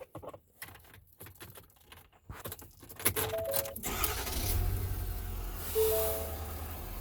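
A vehicle door and rustling, then a 2019 Ford F-250 XLT Powerstroke diesel pickup engine cranks and catches around three seconds in, settling into a steady low idle that runs to the end.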